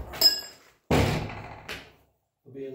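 A sharp metallic tap on a bolt rings out, then a louder knock with a rattling decay and a second short hit, followed by a pause and a faint low hum.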